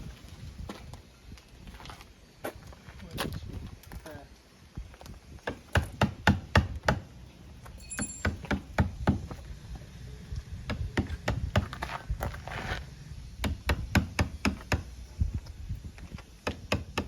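Nails being pulled from a wooden boat under repair in the Dominican Republic, heard as sharp, irregular knocks and taps that come in close, loud bursts over steady background noise.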